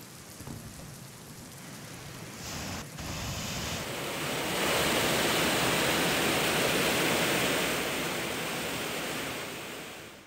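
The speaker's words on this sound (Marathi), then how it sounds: "धोपेश्वर धबधबा पूर्ण क्षमतेनं प्रवाहित झाल्यामुळे या धबधब्याच्या ठिकाणाची ही अंगावर काटा आणणारी दृश्य समोर आली आहेत." Dhopeshwar waterfall flowing at full force after heavy rain, a dense continuous roar of rushing water that swells louder midway and holds steady.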